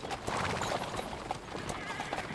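Horse hooves clip-clop at a steady walk in the medieval game Kingdom Come: Deliverance 2, close and fairly loud, mixed with rustling ambience and faint voices.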